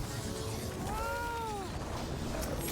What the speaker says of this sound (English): Did I just make a cat sound?